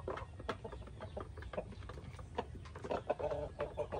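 A flock of egg-laying hens fed coconut pulp and rice bran clucks continuously at close range, overlapping soft calls forming a busy, steady farmyard chatter.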